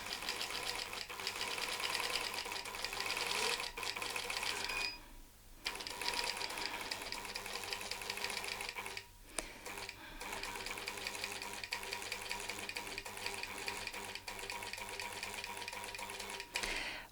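A sewing machine runs nearly continuously while quilting a Baptist fan border, its needle chattering in a fast, steady rhythm up close, broken by two brief pauses.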